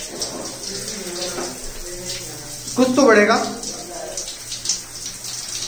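Water runs from a tap with a mesh filter, fed from a tank mounted just above. The steady flow hisses and splashes under people talking, with one louder surge near the middle.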